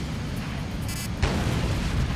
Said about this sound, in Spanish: ¡Fuertes explosiones!